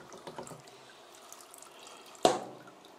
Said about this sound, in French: on laisse bien s'égoutter ça le temps nécessaire pour qu'il n'y ait plus une seule goutte qui coule